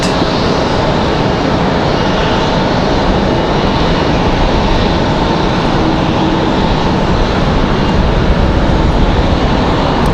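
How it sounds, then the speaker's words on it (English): Loud, continuous roar of jet airliner engines spooling up at an airport, with a broad rushing noise and faint steady whine, filling the whole stretch without pause. "I like that howl when they're spooling"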